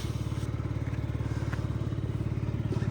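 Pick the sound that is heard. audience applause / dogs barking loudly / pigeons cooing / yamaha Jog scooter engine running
yamaha Jog scooter engine running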